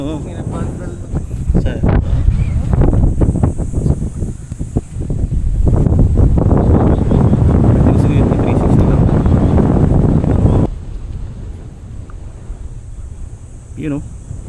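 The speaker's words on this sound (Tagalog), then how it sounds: "Malakas ang hangin." Strong wind gusting outdoors, loud buffeting roar against the microphone with rustling, heaviest in the middle, then easing off, while someone speaks at times.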